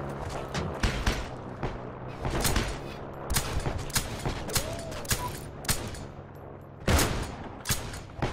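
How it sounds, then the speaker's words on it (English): Gewehr rifle fire in the video game Heroes & Generals: repeated sharp shots crack out irregularly, some near and loud, others more distant, amid battlefield noise. "I've got myself a gun. What do I got here? I've got Gewehr."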